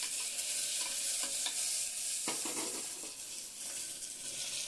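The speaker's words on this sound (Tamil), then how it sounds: "அதுக்கப்புறம் பூண்டை நச்சு போட்டுட்டு நல்லா வதக்கணும்." Garlic sautés in a hot pan with a steady bright sizzle, broken by a few scraping stirs of a spoon against the metal, close and alone without voices.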